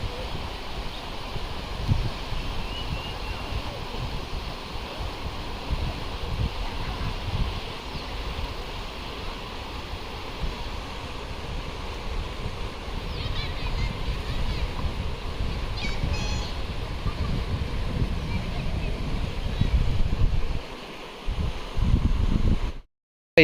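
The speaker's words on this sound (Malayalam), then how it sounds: "നല്ല കാറ്റടിക്കുന്നുണ്ട്." Strong wind gusts outdoors beside the Bhavani river in Attapadi, a continuous loud roar and buffeting rumble that swells toward the end before cutting off abruptly.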